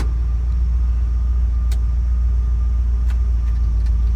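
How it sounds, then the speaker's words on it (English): A steady low whirring hum of the heater fan in a 1964 Ford Galaxie runs continuously, with a few faint clicks over the drone. "I can hear the fan going on."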